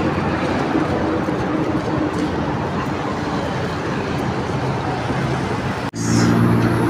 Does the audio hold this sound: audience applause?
no